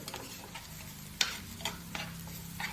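Sliced onions sauté in a pan with three dried red chillies for a beef liver fry, giving a soft, steady sizzle broken by occasional sharp clinks of a spoon stirring against the pan. No one speaks.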